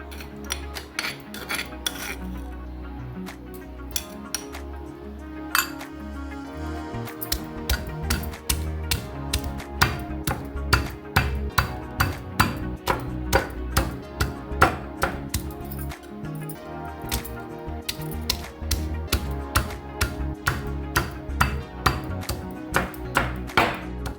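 A pestle pounds gongura leaves and sesame into chutney, the strikes starting sparse and soft, then settling into a steady, brisk rhythm of sharp, close thuds and knocks against the mortar.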